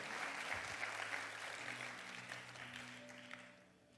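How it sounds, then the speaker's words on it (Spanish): A church congregation applauds loudly for the Lord during a sermon, with sustained dense clapping from a large crowd that slowly fades, with no speech over it. "Vamos, denle ese aplauso fuerte al Señor."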